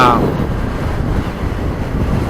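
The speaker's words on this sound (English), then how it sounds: "It's real windy today." Strong wind buffets the microphone with a constant low roar and rushing noise, steady and close, with no clear voices.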